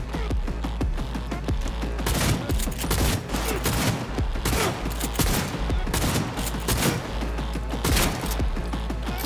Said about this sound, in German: Ich versuche mal drauf, drauf zu schießen.